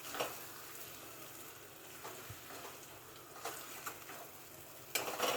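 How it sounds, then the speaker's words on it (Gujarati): Cashews and paneer are gently stirred into gravy in a pan, with a soft sizzle underneath and occasional spoon scrapes and taps against the pan, close and quiet. "હવે કાજુ અને પનીરને પણ આપણે ગ્રેવી સાથે આ રીતે સરસ હળવા હાથે મિક્સ કરી દઈશું."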